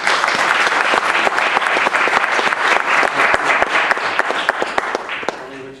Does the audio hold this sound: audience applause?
yes